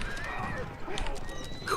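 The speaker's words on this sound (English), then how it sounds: "Horse archers are gonna do some harassing" Horse archers gallop in Age of Empires 4, with hooves clip-clopping and horses whinnying amid busy battle effects, brief and close, with commentators talking over it.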